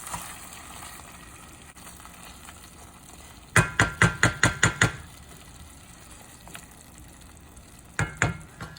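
Beef pieces for Indonesian sweet beef fry in a pan under a constant soft sizzle, broken by a quick run of sharp scraping clacks as they are turned, then a few more later, close by.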